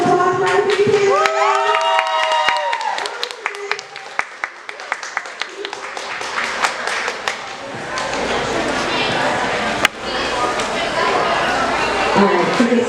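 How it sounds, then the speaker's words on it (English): Convention crowd applauding and cheering for three panelists, with whoops and shouts over scattered claps, a loud burst that grows into dense sustained applause in a large room. "Can I get a round of applause for our three panelists?"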